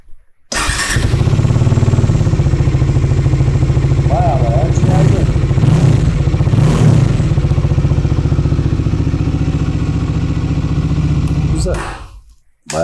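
A Bajaj Dominar 400 UG single-cylinder motorcycle engine runs loudly and steadily at close range with a deep, thumping idle and a few revs, then cuts off near the end.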